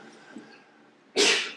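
A single sharp sneeze bursts out near the end, loud and breathy after a quiet stretch with faint room sound.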